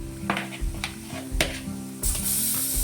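Tomatoes and potatoes fry in a hot pan with a close, steady sizzle, a few brief scraping clinks of a utensil against the pan, and a louder burst of hissing near the end.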